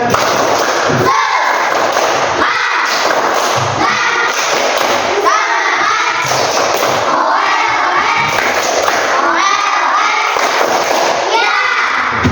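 A group of children in a classroom claps a rhythmic spirit clap, with thumping claps and chanting voices in a loud, continuous crowd sound.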